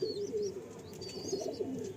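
Pigeons in a home loft, a female and a male among them, coo in low rolling phrases close by, with faint chirps from other birds in the background.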